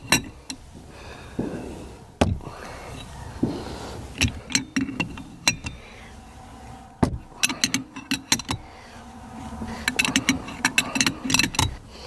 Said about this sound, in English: So I'm just holding that and then tightening the nut down like that